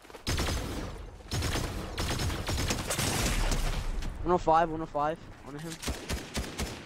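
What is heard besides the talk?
gunfire in the video game Fortnite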